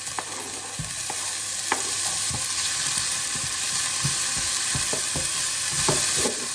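Garlic and peppers fry in hot oil for creamy prawn rice, a steady close sizzle broken by scattered clicks and scrapes of stirring, with no talk.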